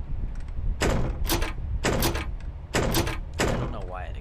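A creaky door in the Ao Oni 2 video game gives several sharp knocking or clacking hits at uneven intervals, loud over constant background game noise.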